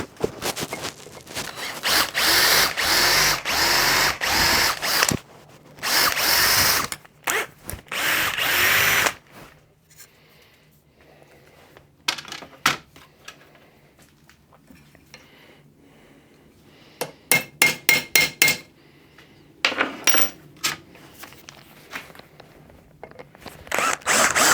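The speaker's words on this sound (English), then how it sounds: "I'd like to drill some of these out." A power drill bores out soft rivets on BSA Bantam crankshaft stuffer plates, running in loud, close bursts of several seconds each, with short stuttering pulses and quiet pauses between.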